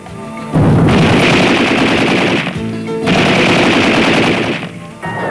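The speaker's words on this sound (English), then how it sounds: "to kill the enemy manpower in a close fight by barrage fire delivered by machine guns and submachine guns" BMP-3 machine guns deliver barrage fire in two long, loud sustained bursts of rapid shots, separated by a short pause and followed by the start of a third burst.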